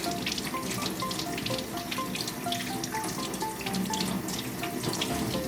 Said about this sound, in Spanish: Con la hoja de papel toalla tomamos para abrir el grifo y no contaminarnos.